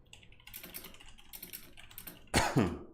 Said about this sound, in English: The dreaded cough of doom is here.